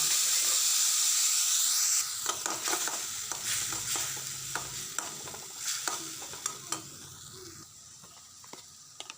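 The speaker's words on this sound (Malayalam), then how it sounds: "ഇനി നമ്മൾക്ക് തക്കാളി ഇട്ട് കൊടുക്കാം." Tomatoes dropped into hot oil with popped mustard seeds give a loud, hissing sizzle that settles into a steadier fry, punctuated by clear clicks of a spoon stirring against the pan; no voices.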